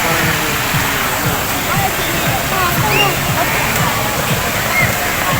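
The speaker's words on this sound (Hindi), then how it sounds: "चल रहा ना पानी का फुहारा, वो पानी की एरिएशन भी हो रही है" A fountain aerating a pond at Lahore Zoo, with water splashing and rushing in a loud, continuous roar like a small waterfall.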